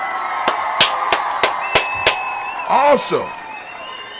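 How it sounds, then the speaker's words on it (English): Six sharp, evenly spaced claps ring out from an audience at a toast event, followed by a voice speaking as the clapping stops. "I want to give all the Imani babies a round of applause"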